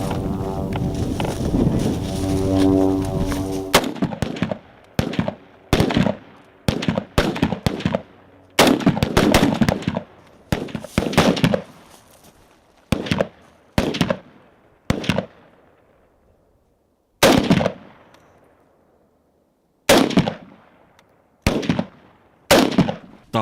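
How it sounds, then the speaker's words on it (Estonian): Rifle shots fired from a kneeling position at 50 metres on a shooting range, a long series of loud sharp cracks at irregular intervals, some in quick pairs, with talk heard only at the start. "Seekord tulistatakse põlvelt, distants 50 meetrit."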